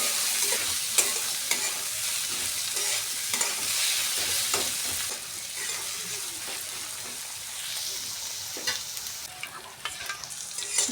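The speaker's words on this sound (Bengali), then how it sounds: "তেল গরম হয়ে গেছে, এবার দিয়ে দেবো পেঁয়াজ কুচি" Chopped onion and green chilli hit hot fish-frying oil seasoned with panch phoron, giving a loud, close, continuous sizzle broken by scraping stirs of a spatula across the pan.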